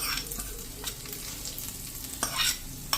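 Hot tempering poured into jowar idli batter gives a short sizzling hiss with a few stirring scrapes, close and fairly quiet.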